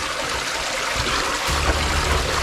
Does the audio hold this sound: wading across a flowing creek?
yes